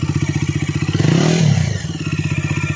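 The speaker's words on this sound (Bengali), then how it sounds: "এর সাউন্ডটা দেখতে পাচ্ছ তোমরা, সাউন্ডটা শুনতেও পাচ্ছ যে কতটা বেশি সাউন্ড" Bajaj Dominar 250 motorcycle engine idling with a steady rapid thumping pulse, then a short throttle blip that rises and swells in pitch around the middle before settling back to the even idle beat, close and loud.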